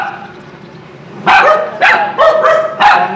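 Several dogs bark in four loud, separate bursts at a house in Tây Ninh, Vietnam, after a quieter stretch of low background hum.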